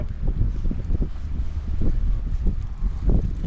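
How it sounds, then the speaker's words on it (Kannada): Strong wind buffets the microphone in rough, low gusts, a constant rumbling roar. "ಗಾಳಿ ಜೋರದ"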